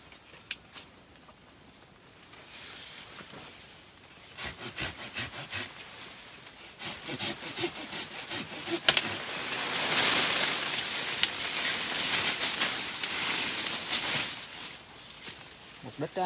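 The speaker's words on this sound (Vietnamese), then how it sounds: "Đưa mượn cưa thôi." A hand saw cuts through avocado tree branches during orchard pruning in Kon Tum, Vietnam, with rhythmic rasping strokes growing louder and denser partway through, preceded by brief quieter handling and scattered clatter.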